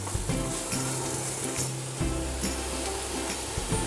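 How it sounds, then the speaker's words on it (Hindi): Onion frying in a teaspoon of oil in a pan, giving a soft, steady sizzle with low humming underneath, fairly faint and continuous. "इसमें हम डालेंगे प्याज, इसको अच्छे से हम फ्राई कर देंगे।"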